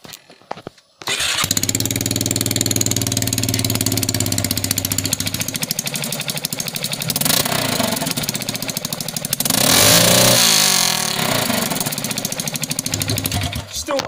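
A motorcycle engine starts after a short silence and revs hard near the limit with a rough, loud roar that rises and falls in surges, staying close and unbroken to the end.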